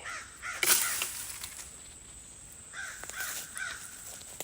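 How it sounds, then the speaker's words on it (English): Crows caw outdoors over a swamp, a few harsh calls spaced apart at moderate distance. "Crows."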